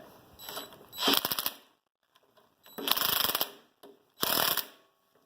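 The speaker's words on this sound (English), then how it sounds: "I'm going to use the impact driver to get these down" An impact driver works bolts loose from a riding mower's shaft in loud rattling bursts, three main runs with short pauses between, one brief blip before the last run.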